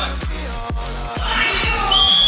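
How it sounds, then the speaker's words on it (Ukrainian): A referee's whistle sounds during an amateur rugby match in Kyiv: a shrill tone near the end, heard over the ongoing game noise with thuds and voices. "рефері свистить"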